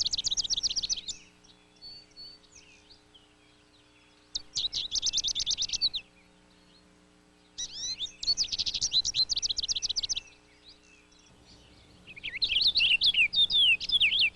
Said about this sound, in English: These lovely birds are the purple finches, more rotund and deeper raspberry in color.